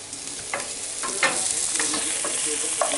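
Burgers with onions and peppers frying in a pan, a continuous close sizzle with intermittent scraping stirs, no voices over it.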